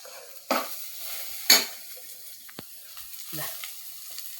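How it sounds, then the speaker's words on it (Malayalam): Green gram upperi being stir-fried with sautéed onions in a pan: a soft sizzle runs throughout while a few distinct spatula scrapes sweep through the food, close and fairly loud. "ഉള്ളി വഴറ്റിയിട്ടുണ്ടെങ്കിൽ അതിലേക്ക് ഉപ്പേരിയാണ് കേട്ടോ വയ്ക്കുന്നത്"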